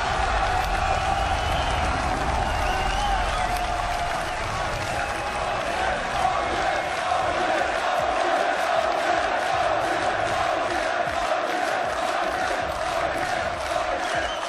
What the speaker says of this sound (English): And just hear that crowd roar for some of their hometown favorites.